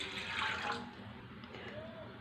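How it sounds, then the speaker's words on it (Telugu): Water is poured from a cup into a cooking pot on the stove, a brief rushing splash up close that fades into quieter kitchen ambience. "నేను ఈ కప్పుతో 2 కప్పులు పోసుకుంటానండి వాటరు"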